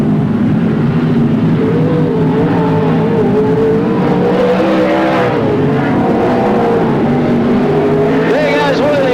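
A sprint car engine roars loud and continuous on a speedway in the 1983/1984 season as a driver punches the throttle, with a race commentator talking over the steady engine drone.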